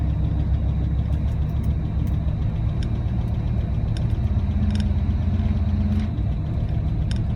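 A Dodge Ram engine idles steadily after a cold start with no oil pressure, a continuous low rumble with some knocking texture and a few faint clicks, heard alone without talk.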